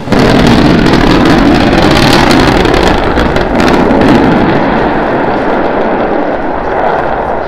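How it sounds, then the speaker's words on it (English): Starship SN9 and SN8 high-altitude flight test rocket engines restarting for the landing burn, a loud, steady broadband roar that holds throughout and eases slightly toward the end. "We're preparing to restart two engines, flip the vehicle vertical, then transition to one engine for the landing burn."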